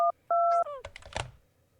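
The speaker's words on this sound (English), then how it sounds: "Quickly, you retrieve your phone and rapidly dial 911." A phone dialing 911 in a video game, with two short electronic keypad tones followed by a quick burst of clicks and a thump, close and brief.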